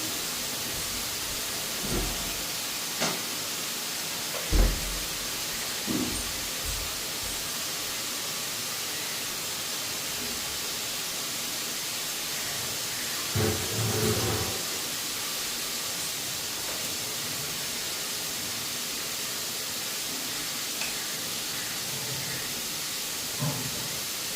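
Steady broad hiss of food sizzling in hot oil as green chillies fry, continuous and close, with a few soft clinks and bumps breaking through.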